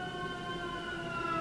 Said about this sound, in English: An ambulance is always a confirmation.